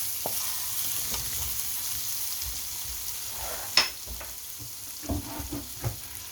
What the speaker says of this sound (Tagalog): Lagyan natin ng butter. Gisa na natin ang ating onion guys.